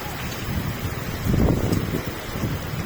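Wind gusting and buffeting against the microphone during rain in Riyadh, Saudi Arabia, a low rumbling rush that swells louder midway through.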